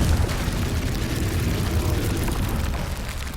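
Confringo, the fiery explosive spell from Hogwarts Legacy, blasts as a dense, loud, low rumbling roar that holds steady throughout with no pause.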